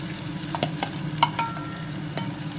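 Boiled vegetables are stirred into a cooked tomato mixture in a pan for a tamarind curry, giving a low continuous sizzle with several sharp spoon scrapes and knocks, close and clear, no speech.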